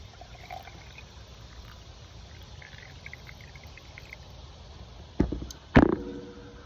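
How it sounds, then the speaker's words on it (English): Water is poured into a mason jar holding pine needles and sugar, a short splashing trickle near the end after quiet ambience with faint chirps, close and brief. "All right, now I'm gonna add some water to this."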